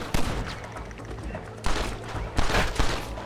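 Gunfire in Red Dead Redemption on PC: several close, heavy bursts of shots in quick succession, mixed with game voices and a busy shootout background.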